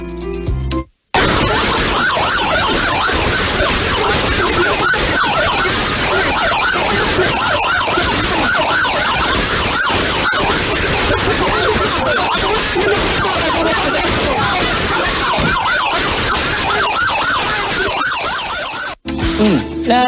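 An ambulance siren wails loudly and without a break next to a bus that is blocking the ambulance's path. It runs for nearly the whole stretch, is dense and close, and traffic noise sits beneath it.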